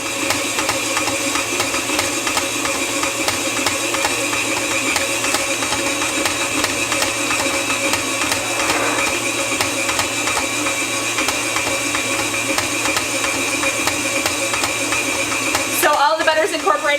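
A stand mixer kneads chocolate babka dough on medium-high speed, a steady, loud mechanical whir and rattle that runs the whole time without a break and ends in a brief clatter.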